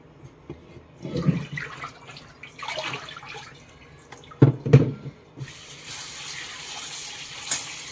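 Tandalja leafy greens washed by hand in a third change of water in a sink, splashing and sloshing, with a couple of louder swishes and then a steady running-tap hiss.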